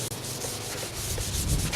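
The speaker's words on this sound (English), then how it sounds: "going over the whole car real quick with the same 180" Hand sanding with 180-grit sandpaper scuffs the clear coat of a car: a close, continuous abrasive rubbing with steady back-and-forth strokes, loud and alone.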